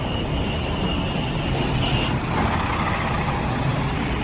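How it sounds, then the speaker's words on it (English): A large bus rumbles past at close range on a city street, a loud, steady engine and road roar with a brief high hiss of air brakes before it fades. "I almost got taken out by that bus"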